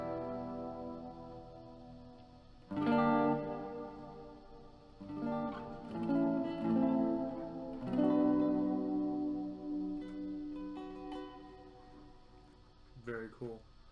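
An Earthquaker Devices Dispatch Master delay and reverb pedal with the mix turned fully up, its guitar chords swelling into a washy, lingering wet tail that rises and fades in several loud phrases.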